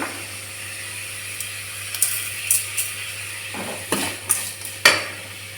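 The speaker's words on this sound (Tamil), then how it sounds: "வெங்காயம் நல்லா வதங்கட்டும். வெங்காயம் வதங்கிட்டு இருக்கு." Onions sautéing in a pan for a potato and pea kurma, a soft sizzle under several sharp metallic clinks and scrapes of a spoon against the pan, close and with no talking.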